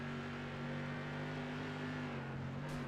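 Onboard race car engine from an SK Modified at Nashville, a loud steady drone held at high revs with harmonic tones dipping slightly near the end, close and continuous.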